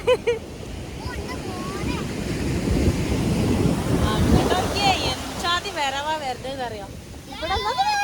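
Waves rush and wash in continuously with wind buffeting the microphone, while voices talk and call out over the surf.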